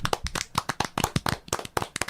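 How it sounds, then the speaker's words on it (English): Polite, light clapping from a few hands on a comedy horror podcast: a quick, uneven patter of crisp, close claps running steadily for about two seconds, with no voices over it. "golf clap."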